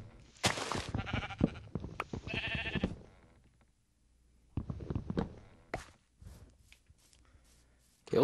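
Several sheep bleats in quick succession from Minecraft, fairly loud, followed by scattered thumps and footsteps with short gaps of quiet.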